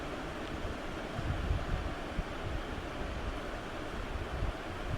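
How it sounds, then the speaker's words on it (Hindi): Roaring rush of the fast-flowing Saraswati river near Bhim Pul, a steady broadband wash of churning water that fills the scene continuously, loud and close with no voices. "माँ सरस्वती नदी के कितने बेग तेज है और कितना ज़्यादा शोर है"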